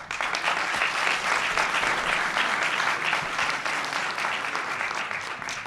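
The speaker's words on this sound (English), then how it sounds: "Now you're applauding me." A conference audience gives sustained, dense applause that holds steady from start to finish with no voices.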